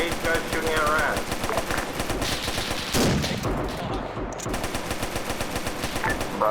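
Dense bursts of machine-gun and rifle fire in a military video game battle, ANZAC against Italians in Ethiopia, rattle almost continuously, loud and close, with a heavy blast around the midpoint and voices faintly underneath.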